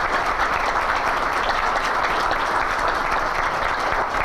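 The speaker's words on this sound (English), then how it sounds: "why don't we give him a round of applause for a good job" At a Palmdale State of the City event, a large audience applauds the city manager, a dense, even roar of clapping that stays loud and unbroken throughout.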